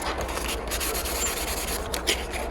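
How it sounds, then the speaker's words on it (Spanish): Wet sandpaper rubs steadily against a Nintendo 64 plastic shell, a continuous close-up scratchy rasp with slight strokes and no talking. "esto voy a tener que ir lijando poco a poco."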